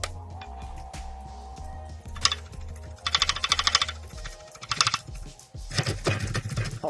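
A wood-turning gouge cuts a spinning vase on a lathe, a steady motor hum beneath bursts of rough, rattling chatter and scraping as the tool bites, close and moderately loud.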